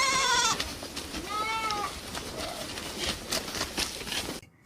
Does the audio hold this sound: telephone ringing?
no